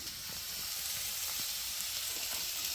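Garlic frying in a pan for a home-cooked curry: a steady, close hiss and crackle of hot oil that holds evenly throughout, with faint clicks underneath and no talking.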